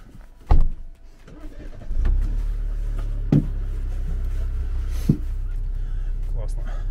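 A car in the Swiss Alps is started with the key: a brief crank and catch, then a steady close engine idle running to the end, with a few clicks and thumps and people talking over it.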